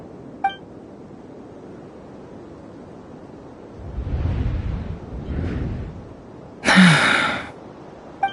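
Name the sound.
gasp of a character, from the video game Genshin Impact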